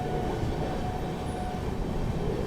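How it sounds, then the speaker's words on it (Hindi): The Mahabodhi Express rolls slowly past the standing Azimabad Superfast Express at Sarai Bhupat, a loud, continuous close-up rumble of wheels and carriages with no pauses or voices. "सराय भूपत पे हम लोग बड़ी स्लोली बट ओवरटेक कर रहे हैं अजीमाबाद सुपरफास्ट एक्सप्रेस को"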